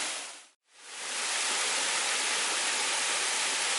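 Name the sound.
Pingón El Caneyu waterfall in Piloña, Asturias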